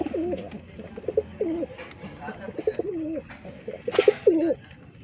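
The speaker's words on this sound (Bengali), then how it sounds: "আর এইসব পায়রা দেখুন" Several pigeons, among them Giribaz birds, coo in a home loft, with repeated soft rolling coos close by, a few faint chirps and scattered rustling.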